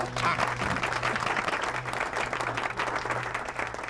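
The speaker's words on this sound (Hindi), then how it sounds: "बजाओ तालियां।" Studio audience at a comedy show applauding steadily, a dense even wash of many hands clapping that holds at a constant level throughout, with a low hum underneath.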